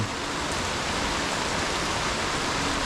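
Steady typhoon rain hisses continuously, a dense even wash of falling water with no other sounds or voices.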